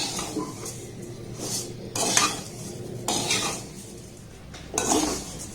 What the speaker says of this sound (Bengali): একদম লো করে এইভাবে একটু নাড়াচাড়া করে একটু লাল করে নেবেন